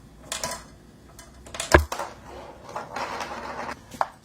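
A marble rattles and taps on a homemade matchbox snare drum with no rice inside, giving a few dry, scattered clicks and one sharper hit, close and fairly quiet.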